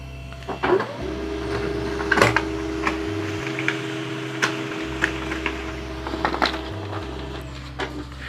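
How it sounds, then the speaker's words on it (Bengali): A Samsung Xpress M2020 laser printer prints a test page, with a steady low mechanical hum that stops and restarts in stages, a whirring feed tone and scattered ticks and clicks up close. "আমরা এখন একটি টেস্ট পেজ প্রিন্ট কমান্ড দিচ্ছি"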